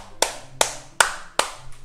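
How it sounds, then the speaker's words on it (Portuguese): Four sharp, evenly spaced hand claps ring out alone, close and crisp, as applause during a Minecraft gaming session. "Palmas para o Bruninho, pessoal!"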